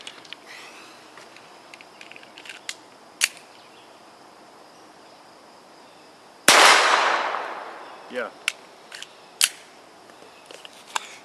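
A single sharp gunshot crack, heard through Howard Leight Impact Sport electronic earmuffs, bursts out loud and fast-decaying amid faint outdoor shooting-range noise and a few distant clicks, with a brief spoken word.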